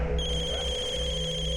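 A telephone ringtone with steady electronic tones, continuous and moderately loud against a quiet background.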